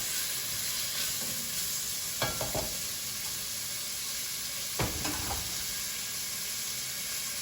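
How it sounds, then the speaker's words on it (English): Garlic sautéing in a pan gives a continuous soft sizzle and hiss, broken by two brief bursts of spoon stirring and scraping. "And this is sauteing up nicely."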